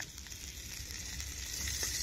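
Kaan pitha, a Bengali rice-flour dumpling, frying in hot oil: a continuous soft crackling sizzle heard up close and fairly quiet, with no talk over it.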